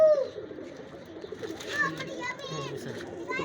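Racing pigeons kept for competitive flying coo softly and intermittently at close range, partly under people talking nearby.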